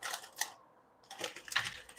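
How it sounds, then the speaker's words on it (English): Kitchen scissors snipping through large onion pieces to halve them during early-morning cooking; a few quick, crisp clicking snips close to the microphone. "I'm finna get the scissors and cut the big ones in half."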